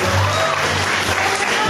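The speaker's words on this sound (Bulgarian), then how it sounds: "Аплодисменти за нея." Applause from an audience at a school graduation ball, honouring the school director, a steady sustained patter of many clapping hands filling the room with no break.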